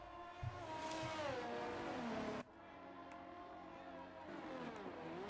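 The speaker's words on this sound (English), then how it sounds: "I'm sure you can hear the rumble of the engines there." Race car engines rumble and whine through a simulated Formula 1 race at the Albert Park circuit, with loud, continuous revving that rises in pitch, then drops sharply before building again.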